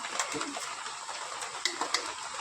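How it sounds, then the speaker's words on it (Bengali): Light rain falls outdoors in a soft, steady patter, faint and distant, with a few sharper drips standing out near the end. No one speaks. "একটু মেঘ, বৃষ্টি পড়েই যাচ্ছে দেখো"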